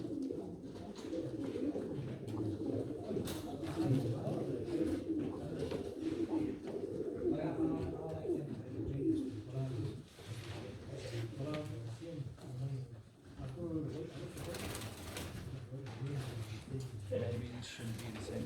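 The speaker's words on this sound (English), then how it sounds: "And then we're down to these two very nice pigeons." Jacobin pigeons at a British club show coo softly and repeatedly, murmuring at close range amid a busy hall, with low voices talking in the background.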